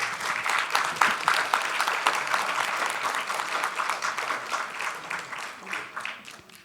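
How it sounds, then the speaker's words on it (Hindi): Audience at a literature festival at LBSNAA Mussoorie bursts into loud, sustained applause welcoming a speaker, dense clapping filling the whole stretch with slight swells and no voices above it. "जोरदार तालियों से स्वागत करिए"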